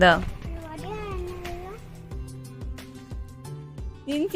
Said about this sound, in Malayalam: ഇതാ പൂച്ചക്കുഞ്ഞ് എവിടെയാ ഇവിടെ ഒരാള് പൂച്ചക്കുഞ്ഞിനെ കാണാൻ വന്നിട്ടുണ്ട്